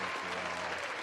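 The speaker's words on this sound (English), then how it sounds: "Round of applause." A crowd claps in a brief, dense burst of applause, steady and fairly loud for about a second with no pauses.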